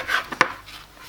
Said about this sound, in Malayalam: ഈ ബ്രെഡിൻ്റെ 4 പോർഷൻ നമുക്കത് ചെറുതായിട്ട് ഒന്ന് കട്ട് ചെയ്ത് കളയാം.